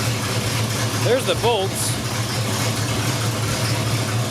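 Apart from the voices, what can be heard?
Squarebody dually truck engine idling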